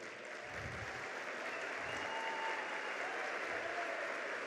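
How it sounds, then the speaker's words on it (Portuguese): An audience applauds steadily for Oswaldo, a man in a wheelchair, at a Brazilian political event with a federal deputy; dense, even clapping fills the room throughout with no talk over it. "Uma salva de palmas para você,"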